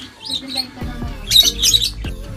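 Harsh bird squawks burst out repeatedly, loud and close, over a busy background of low thumps and clatter.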